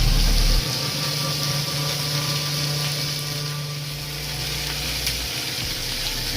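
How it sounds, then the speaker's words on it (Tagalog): Tuna frying in a pan over low heat, giving a steady, even sizzle with a constant low hum beneath it and no talking. "Prito-prito lang po natin sa mahinang apoy."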